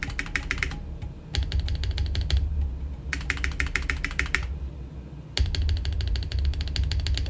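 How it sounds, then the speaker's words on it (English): Bursts of rapid clicky keystrokes from an old mechanical computer keyboard, close and crisp, coming in several fast runs separated by short pauses. "this one, my old keyboard."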